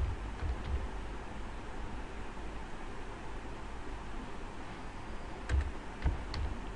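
Python code being typed on a computer keyboard: a quiet, irregular patter of key clicks over a soft hiss, with a few sharper, louder taps near the end and no talk.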